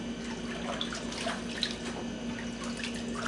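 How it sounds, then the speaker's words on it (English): Water drains from a pot of cooked greens into a sink, a faint, steady trickle with scattered drips and small splashes under a low background hum, no voices. "Drain that water out."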